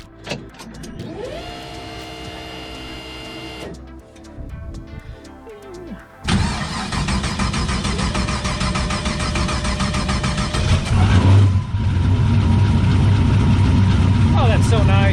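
Turbocharged LS-swapped car engine cranks and fires up, settling into a loud rough idle before revving harder, heard up close alone with no talk.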